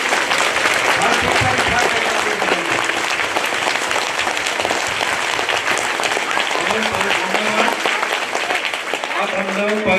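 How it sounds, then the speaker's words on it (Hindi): A crowd at a Christian pilgrimage gathering claps in sustained, dense applause lasting about ten seconds, with voices mixed in beneath the clapping. "सब हमको जय जय से एक बार जोरदार ताली बजाएंगे।"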